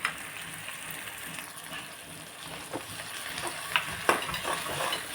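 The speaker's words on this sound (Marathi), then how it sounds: "टोमॅटो मऊ होईपर्यंत आपल्याला छान भाजून घ्यायचं आहे आता मी थोडंसं मीठ टाकून घेणार आहे" Tomatoes frying in a pan with a pinch of salt added, a soft continuous sizzle with occasional sharper spatters and stirring scrapes, fairly quiet and close.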